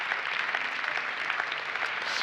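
A conference audience at a vocational excellence forum gives a short burst of steady clapping, fairly soft and even, with no voices over it.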